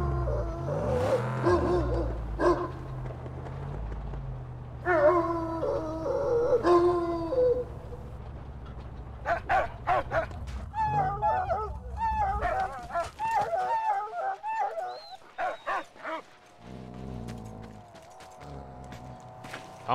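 Dog howling and barking in the Mad Max video game: loud howls and yelps over a low rumbling game soundscape, followed by a quick run of sharp barks, then quieter ambience.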